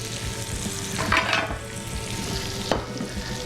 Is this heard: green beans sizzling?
yes